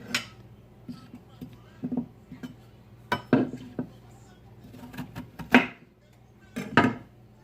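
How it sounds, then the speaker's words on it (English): A knife chopping ginger on a board at home, irregular knocks and taps spaced out with short pauses, close and moderately loud, while someone talks in between. "I'm gonna cut my ginger."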